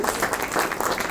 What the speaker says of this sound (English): They all need another round of applause.